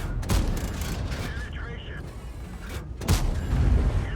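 Tank gun shots in a video game land as a few heavy booming blasts, one near the start and another around the three-second mark, over rumbling engine noise and a commentator's voice.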